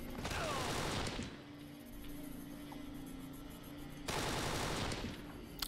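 Gunfire in the shooter game Kane & Lynch 2: Dog Days: two loud sustained bursts of rapid automatic fire, separated by a quieter humming lull of a few seconds.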